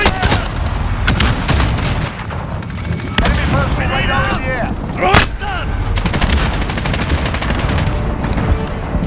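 Gunfire and a grenade explosion in Call of Duty: Modern Warfare, with continuous rapid shots and bursts running throughout, a louder blast near the middle, and radio-style voices talking over the battle.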